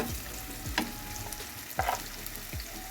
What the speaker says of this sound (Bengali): শুধু পেঁয়াজ দিয়ে লবণ দিয়ে ইলিশ মাছ ভাজা